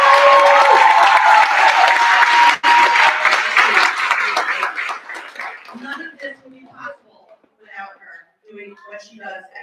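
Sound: audience applause

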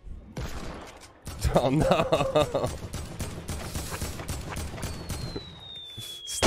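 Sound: gunfire in the video game Fortnite

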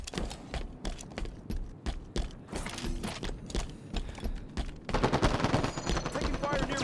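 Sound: gunfire in the video game Halo 5

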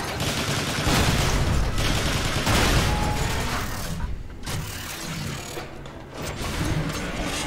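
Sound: shooting to destroy locks in video game Transformers War for Cybertron

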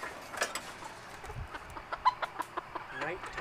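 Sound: chickens clucking at night in a flock

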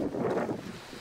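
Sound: wind blowing on snowy mountain summit

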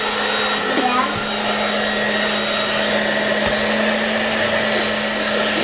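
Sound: hair dryer blowing air on an ice cube in a bowl

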